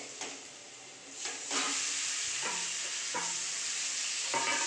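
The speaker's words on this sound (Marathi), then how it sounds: "हे चांगले परतून घ्यायचे" Boiled potatoes sautéed with turmeric in a pan give a steady close sizzle, broken by several scraping stirs of a spatula against the pan.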